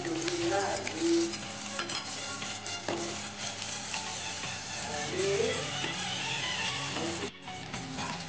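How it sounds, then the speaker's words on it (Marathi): Bread rolls fry in butter over a low flame, giving a steady soft sizzle with light clinks and scraping of utensils throughout, briefly dipping near the end. "फ्राय करायचे मंद आचेवर"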